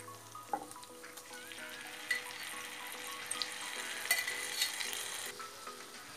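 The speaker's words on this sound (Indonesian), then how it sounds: "Aduk sebentar. Setelah itu kasih tomat ya." Tomatoes are stirred into a frying pan for a spaghetti tomato sauce, with a continuous quiet sizzle, repeated scraping strokes of the spatula and a few light clinks, and no voices.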